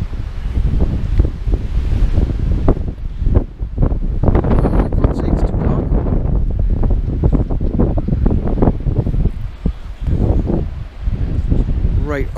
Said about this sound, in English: Really bad wind.